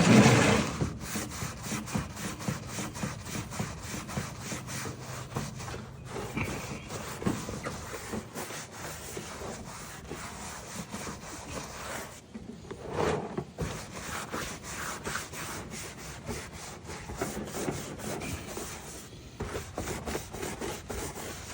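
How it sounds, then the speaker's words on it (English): A brush scrubs a car's surface during detailing, producing continuous, close, rhythmic rubbing strokes that run steadily throughout with no voices. "All right, now we can start scrubbing."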